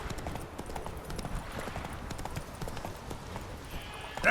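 Horse hooves clip-clop in a fast, even galloping rhythm in the video game The Witcher 3: Wild Hunt, sounding continuous and moderately quiet at mid distance.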